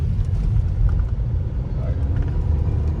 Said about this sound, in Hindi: बहुत शोर तो मचाता है इंजन जब आप पावर बना रहे हो, क्योंकि 1 लीटर का इंजन है